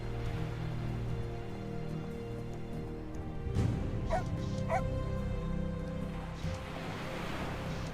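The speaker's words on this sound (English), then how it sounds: "Go feed the doggy." A dog in a video game barks and whimpers in short bursts over steady game music and ambience, with a few yips standing out midway.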